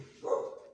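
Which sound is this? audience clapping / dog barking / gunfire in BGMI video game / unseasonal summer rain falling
dog barking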